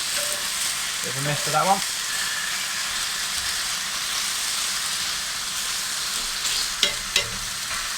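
Bacon rashers sizzle and spit on an Aldi kamado grill, a steady dense crackling hiss throughout with a couple of brief knocks and scrapes, while someone briefly speaks over it.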